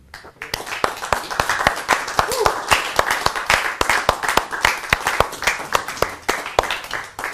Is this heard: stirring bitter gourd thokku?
no